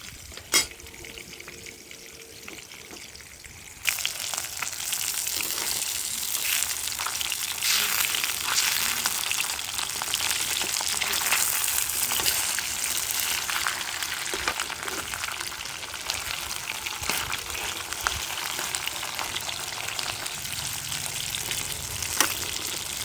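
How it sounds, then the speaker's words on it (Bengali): Tilapia pieces fry lightly in hot oil in a pan, a steady bright sizzle that jumps louder a few seconds in and then crackles on continuously, close and alone. "মাছগুলাকে আমি একেবারে হালকা করে ভেজে নিব।"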